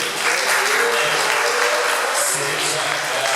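Steady applause from a church congregation, continuous and dense throughout, with no pauses.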